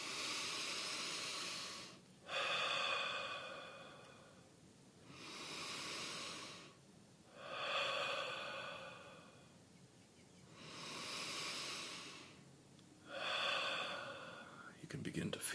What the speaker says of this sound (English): breathing in through the nose and out through the mouth